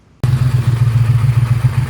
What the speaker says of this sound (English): So the car's idling, but it's not idling well.